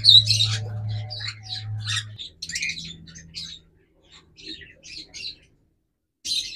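A pair of red-eyed lutino Fischer's lovebirds squawks and chirps in sharp, high bursts, close by, over a low hum that stops partway, with brief quiet gaps before a final squawk.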